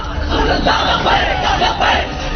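A large crowd gathered to hear Saad Rizvi at a rally shouts and roars together in dense, continuous waves of voices, swelling louder in repeated surges.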